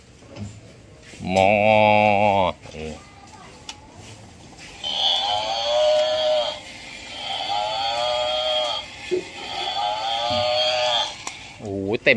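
A battery-powered toy buffalo gives loud, wavering electronic moos in a pen with real cattle and buffalo. One long call comes first, then a sustained stretch of repeated mooing, with scattered clicks and handling noise.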